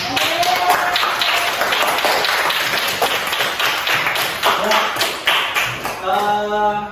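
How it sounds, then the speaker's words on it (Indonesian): Classroom applause for a student presenting group work: a few seconds of steady, fairly close clapping from a group of students, tapering off at the end. "Yuk, kasih tepuk tangan buat Adam"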